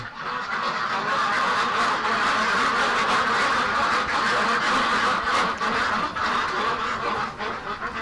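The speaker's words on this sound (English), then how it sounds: "Oh, that's loud. But there's only half as many ducks in here as normally" Dense flock of ducks packed into a shed, quacking loudly and continuously in an overlapping chorus that fills the whole stretch without a pause.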